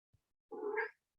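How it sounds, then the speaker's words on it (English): A cat gives a single short, clear meow, close and faint, preceded by a tiny soft thump in otherwise silent surroundings. "Meow. He said yes."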